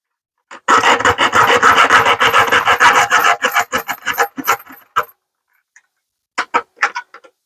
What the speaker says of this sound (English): let me cut this thing off, this hinge. I mean, okay, I went and got me a hacksaw.